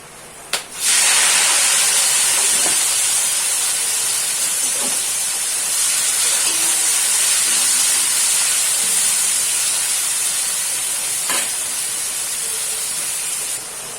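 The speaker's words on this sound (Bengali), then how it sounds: "ওরই মধ্যে আমি পেঁয়াজটা দিয়ে একটু লাল লাল করে ভেজে নেবো" Onions fry in oil with whole garam masala, giving a strong, steady hiss that starts abruptly after a brief knock and carries on evenly at close range, with a few faint clinks and no talking.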